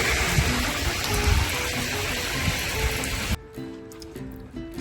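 Steady rain patters densely for several seconds, then cuts abruptly to a quieter indoor room tone with faint tonal hum.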